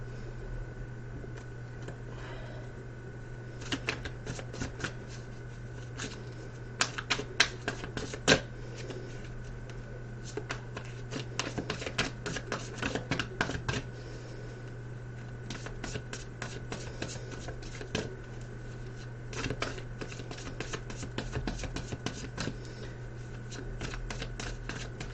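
Tarot cards are handled and shuffled close by, with scattered riffles and flicks that bunch into busier stretches over a steady low hum, and no voices.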